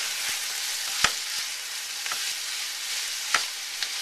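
Bacon frying in a pan with chopped cilantro, a steady loud sizzle broken by occasional soft scraping knocks as the food is stirred, no talk.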